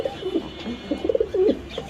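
Soft, throaty coos from large pigeons repeat close by in short bursts, with no talking.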